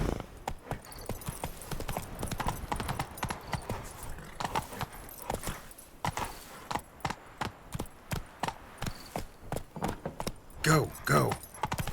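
Hooves of the horse Roach clip-clop in a quick, rhythmic canter in The Witcher 3, with jangling tack and occasional voices over the steady beat.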